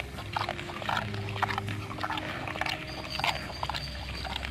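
Pig oinking in the Secret Files adventure game, short grunty bursts repeating over a busy background of game ambience and tones, moderately loud throughout.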